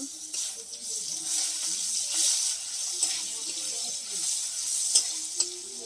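Crushed garlic paste sizzles in hot oil for a potato and egg curry, a steady close frying hiss with a few sharper spits and stirring clinks, no voices.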